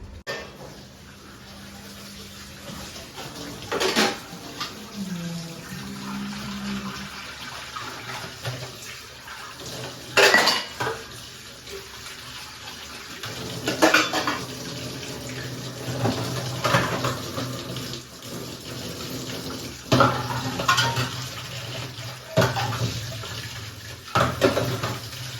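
Running tap water splashes as dishes and utensils are washed at a home sink, a continuous close stream with intermittent clinks and louder splashes, while people talk at times in the background.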